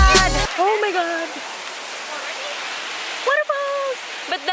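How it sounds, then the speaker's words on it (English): A waterfall in Emerald Valley, Hualien, gives off a continuous broad rushing roar. Excited voices exclaim over it now and then. "Waterfalls."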